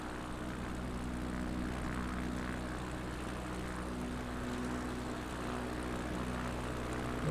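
Propeller airplane engine droning steadily in Microsoft Flight Simulator 2024 over Etosha National Park, a constant loud hum with stable tone and no talk.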